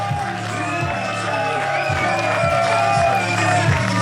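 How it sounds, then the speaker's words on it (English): A packed crowd at an independent wrestling tournament roars steadily, with shouting and whoops over a low rumbling chant that pulses in repeated bursts, loud and continuous throughout. "Look at this crowd. Look at this atmosphere."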